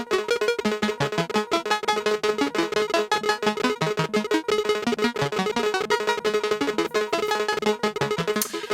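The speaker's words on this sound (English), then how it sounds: "I've frozen the delay buffer." Frozen delay buffer on a Bastl Basil stereo space delay loops a dense, steady tonal pattern with rhythmic pulses, continuous and fairly loud with no talk over it.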